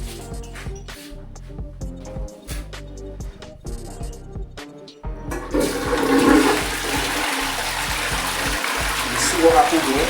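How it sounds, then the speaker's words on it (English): A toilet flushing in a home water closet with a newly reinstalled flush valve: a sudden loud rush and gurgle of water surges in halfway through and keeps roaring, after a stretch of quieter speech and clicks. "I want to flush it now."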